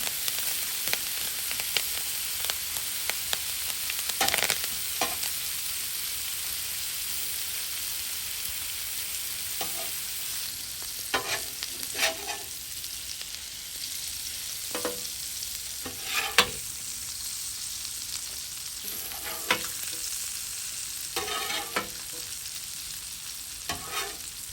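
Butter, thyme and garlic sizzle on a Blackstone griddle in a constant hiss, broken by repeated scraping strokes of a spatula, with no speech.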